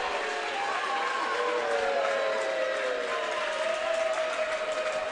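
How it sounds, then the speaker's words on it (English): A basketball crowd at a men's grand final game rumbles with steady, broad displeasure after a foul call, a sustained wash of voices and murmuring boos filling the arena. "Crowd voicing their displeasure once again"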